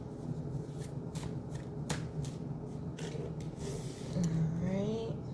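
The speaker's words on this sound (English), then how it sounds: "So we're gonna shuffle up a little bit and see what messages come out." A deck of cards being shuffled up close, with a series of crisp riffling bursts and soft rubbing flicks over a low steady background hum, and no talk.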